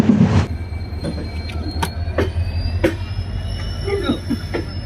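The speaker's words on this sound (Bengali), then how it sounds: "আমাদের ট্রেন এখন কিষানগঞ্জ ছাড়লো, এনজিপি স্টেশনে প্রবেশ করছে" Passenger train arriving at NJP station in the morning after leaving Kishanganj, with a steady low rumble, repeated sharp metallic squeals and clicks from the wheels, and a brief murmur of voices at the start.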